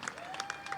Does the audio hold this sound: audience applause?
yes